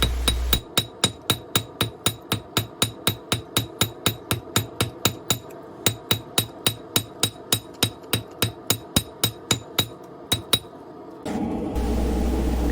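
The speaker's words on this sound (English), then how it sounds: "I'm only using the edge of the hammer to hit that back side to get it to draw out as much as the front side drew out" A ball peen hammer strikes flat metal stock while forming a spoon, dozens of sharp ringing blows in a steady even rhythm, close and loud, pausing briefly before a low rumbling hum takes over at the end.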